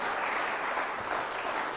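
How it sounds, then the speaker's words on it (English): Dense, loud applause from a church congregation clapping hard for God, continuous and even throughout without a break. "Let's give a mighty hard clap to God."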